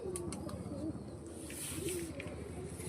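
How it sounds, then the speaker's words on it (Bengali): Pigeons kept by a pigeon flyer cooing softly in low rolling phrases over a busy outdoor background hum, fairly distant and faint, with a few faint chirps above. "এই যে পায়রাগুলো"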